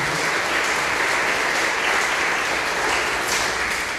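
Congregation applauding during a church talk, a loud, dense, steady burst of clapping that fills the whole stretch without pause.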